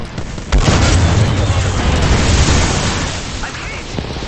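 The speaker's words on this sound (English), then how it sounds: "Heads up," A grenade blast in a first-person shooter game: a sudden loud boom that rolls into a sustained rumbling roar for several seconds before tapering off, with a voice speaking faintly underneath.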